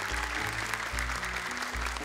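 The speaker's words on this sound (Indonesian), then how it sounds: "tepuk tangan, semua benar." Clapping during a children's Quran recitation and arithmetic contest, a steady wash of applause over a droning, repeating low-pitched musical background.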